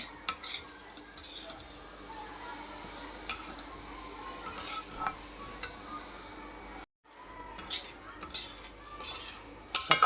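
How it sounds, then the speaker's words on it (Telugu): Metal spoon stirs semolina roasting in a steel pan for rava laddu, with quiet repeated scraping and clinks over a faint hiss, briefly falling silent midway. "ఇలా తిప్పుతూనే ఉండండి లేకపోతే మాడిపోయే అవకాశం ఉంది"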